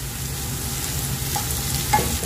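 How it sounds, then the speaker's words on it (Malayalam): Onion sautéing with ginger-garlic paste for egg kurma, a steady close sizzle with stirring scrapes and a sharper clink near the end, no voices. "നമുക്ക് ഇതിലേക്ക് എടുത്ത് വെച്ചിട്ടുള്ള ഇഞ്ചി വെളുത്തുള്ളി കൂടെ പേസ്റ്റ് ചേർത്ത് കൊടുക്കാം."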